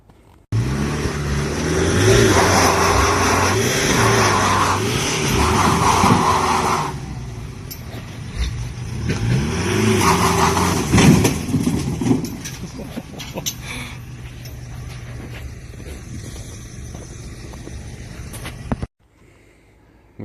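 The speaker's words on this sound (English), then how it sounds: "We had to use two four-wheel drives to try and get the beast out." Two four-wheel drives straining to pull a stuck Leyland Mastiff truck with an Eaton Fuller gearbox, engines revving hard and loud in repeated rising and falling surges, then a steadier running drone.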